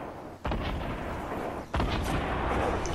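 Two loud gunshot-like blasts in a shooter video game, one near the start and one midway, each followed by a sustained booming rumble.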